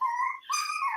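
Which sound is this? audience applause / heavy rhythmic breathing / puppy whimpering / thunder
puppy whimpering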